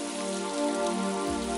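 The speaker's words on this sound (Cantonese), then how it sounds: "咁唯有咧焗住落雨都要出嚟啦。" Steady rain falling in Toronto, a dense even hiss throughout with a low tonal hum beneath, no voices.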